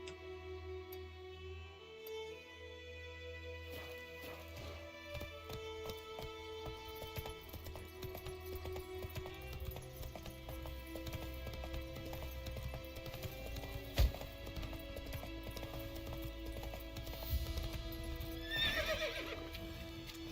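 Roach, a horse in The Witcher 3 video game, trots with steady clip-clop hoofbeats and gives a loud whinny near the end, all under a continuous musical score.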